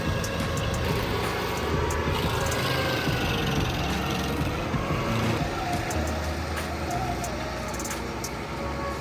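A massive forestry mulcher clearing tree stumps roars with a heavy, continuous engine drone and broadband grinding noise, loud and close, holding steady throughout.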